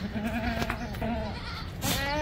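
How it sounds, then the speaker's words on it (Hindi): Kota goats at a goat market in Bhiwandi bleat in long, wavering, nasal cries, loud and close, with a second bleat starting near the end. "और एक ये ब्रीड भाई कोटा बकरी, कोटा बकरी है।"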